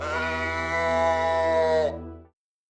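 A goat in the video game The Uncertain lets out one long, loud, wavering bleat of nearly two seconds that cuts off abruptly, with a steady low hum continuing briefly underneath.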